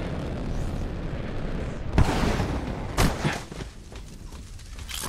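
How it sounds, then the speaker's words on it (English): Two loud gunshot-like bangs about a second apart in Marvel's Avengers, echoing over a dense rumbling background of distant battle noise in a forest. "Sounds like gunfire in the forest."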